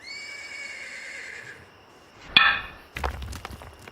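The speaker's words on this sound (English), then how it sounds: "The horse stumbled wild and cast a shoe and went stone lame." A horse whinnies in an audio drama sound effect, a long wavering neigh over the first second and a half, followed by a sharp snort or burst and then heavy thumping hoof and body sounds, close and fairly loud with no talk.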